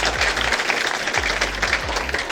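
Audience applauding a student contestant at an inter-college quiz challenge in a school hall, steady clapping throughout over a low recurring hum.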